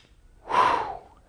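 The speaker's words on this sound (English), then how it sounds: "Again, breathing would be inhale," A single sharp inhaled breath taken during a weight-lifting exercise, close and fairly loud, rising quickly and fading within about half a second, with no talking.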